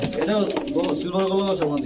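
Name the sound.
pigeons cooing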